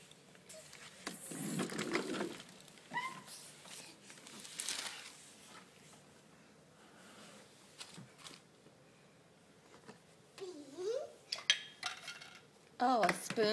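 Small child clattering and scraping a spoon against dishes in a home, with scattered metallic clinks and rattles, intermittent and fairly close, with faint voices in between.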